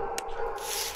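A dog in the horror video game P.T. Emergency Call gives a quick bark or yip over a dense, noisy game background within about a second.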